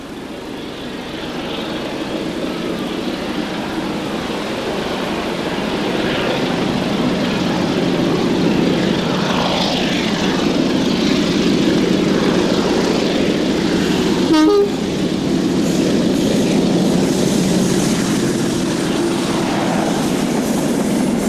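A Class 33 Crompton diesel locomotive hauls a train through the North Downs near Wateringbury, its engine drone and rolling rumble building steadily and staying loud and close, with a short horn toot midway.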